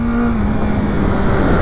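A 2021 BMW S1000R motorcycle engine drones steadily while riding downhill at a relaxed pace, a loud, continuous mid-pitched hum with a faint rising whine and constant wind rush, no voices.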